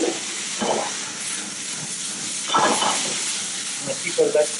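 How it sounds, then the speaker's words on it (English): Fish and vegetables glazed with teriyaki sauce steam and sizzle in a pan, a steady close hiss with a few soft stirring scrapes and no talk. "you're going to steam this now"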